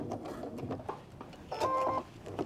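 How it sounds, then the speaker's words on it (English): A sewing machine stitches a square of Velcro onto a denim clutch, a close rapid ticking run of stitches lasting a couple of seconds, with a brief tonal whine partway through. "it's just a matter of sewing all the way around the Velcro"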